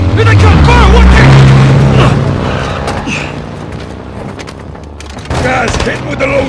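Bursts of automatic gunfire and booming explosions in Call of Duty Modern Warfare 2 during a firefight, loud and dense with a rumbling low end, mixed with shouted voices.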